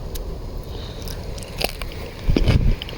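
Someone bites into a crunchy lemon cucumber in a front yard garden, several close crisp crunches and chewing sounds, the loudest crunching near the end, no talking.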